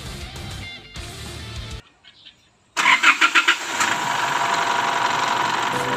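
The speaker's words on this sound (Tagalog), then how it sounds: "pwede na natin siyang buhayin ng makina at matesting kung talagang gumagana" A diesel engine of an Isuzu D-Max (4JK1) cranks briefly in quick pulses, then catches and settles into a steady, loud idle after a short quiet pause, following a fuel filter replacement.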